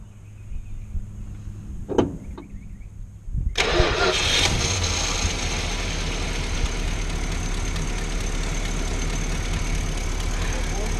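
A 1968 Dodge Charger engine cranks with a couple of sharp clicks, then starts and runs on at a steady, loud mid-pitched drone, with little clear revving.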